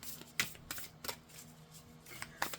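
A Gilded Reverie Lenormand oracle card deck being shuffled by hand, giving soft, quick papery riffles and taps in irregular bursts, close and quiet with no talking.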